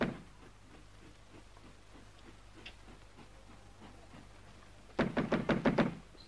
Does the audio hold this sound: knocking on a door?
yes